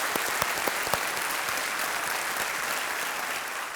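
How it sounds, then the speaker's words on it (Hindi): A studio audience at a televised quiz show claps steadily, a dense and fairly loud wash of applause that holds evenly throughout. "बहुत बहुत स्वागत आपका एक बार फिर तालियों के साथ"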